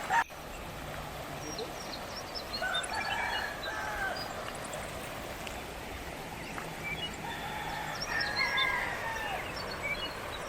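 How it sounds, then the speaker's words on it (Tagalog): Several chickens crow and call from up a hill, distant and faint over a steady outdoor hiss, with a couple of crowing calls standing out; a brief knock is heard at the start. "Daming manok doon sa taas ng idol."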